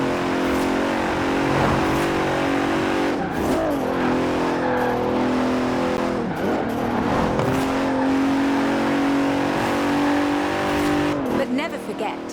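A Bentley Continental engine in Forza Horizon 4 drones steadily and loud, shifting pitch as it accelerates and settles through gear changes, under a narrating voice.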